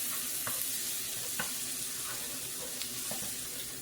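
Eggs fry in a pan for a breakfast burrito, a steady close sizzle broken by a few soft stirring clicks, with no talk.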